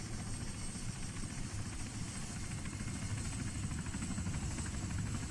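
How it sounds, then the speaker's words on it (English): Helicopter engine in the Arma 3 video game, a steady continuous rotor and turbine drone holding at constant loudness throughout, with no voices over it. "I'm fixing up your chopper."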